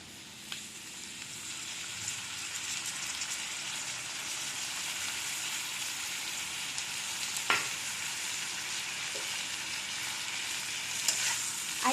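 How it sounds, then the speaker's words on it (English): Potatoes and onions sizzle steadily in hot mustard oil over a raised flame, a close, constant frying hiss broken by a few sharp scrapes as a spoon stirs the pan. "I am now mixing the potatoes with the onion and in the mustard oil nicely"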